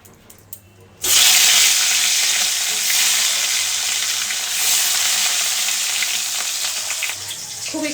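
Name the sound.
fish frying in salted oil in a pan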